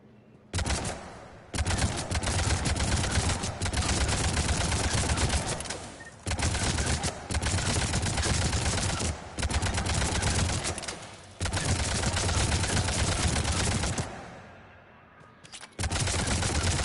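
Gunfire in the video game Mass Effect 3 rattles out in long, loud automatic bursts separated by brief pauses, dense and continuous for most of the span.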